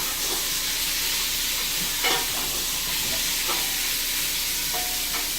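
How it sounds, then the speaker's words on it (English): Food being stirred in a hot pan, a steady sizzling hiss throughout with a few scraping strokes of the spoon close by, no talking. "And I will give this a stir."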